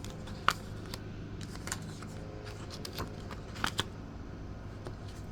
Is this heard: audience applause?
no